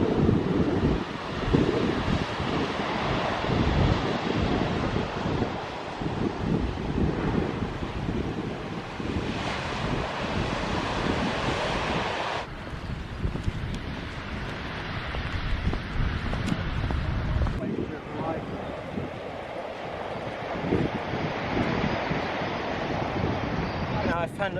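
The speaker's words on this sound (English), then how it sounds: "You've got those rollers breaking and they're beautiful." Rolling ocean surf breaking on the shore, a loud continuous roar of crashing and washing water heavily mixed with gusting wind buffeting the microphone.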